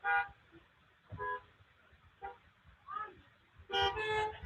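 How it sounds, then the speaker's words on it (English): Car horns toot in short separate bursts from parked vehicles at a drive-in church service, several honks spread over a few seconds, fairly faint and distant. "honk your horn, tell me you're still awake"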